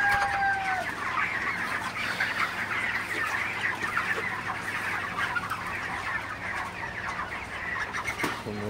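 Broiler chickens around 2 kg each cluck and murmur steadily throughout a hot farm shed, a dense continuous flock chatter with occasional sharper calls.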